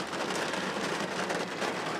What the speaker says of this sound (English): during the tour, it starts pouring rain